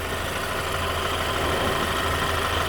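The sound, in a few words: 2016 Buick Regal turbo 2.0 engine running rough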